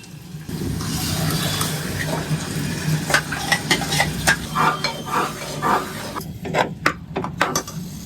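A spatula scrapes and clinks around a pan as a tempering with ground tomato is stirred, the soft fry sizzle beneath broken by repeated close knocks and scrapes against the metal.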